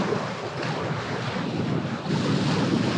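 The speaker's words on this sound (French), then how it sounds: "J'ai le vent dans la tronche." Strong wind blasts across the microphone on a seashore before a storm while fishing for sea bass, a constant roaring buffet mixed with the hiss of surf, swelling louder partway through, with no voices.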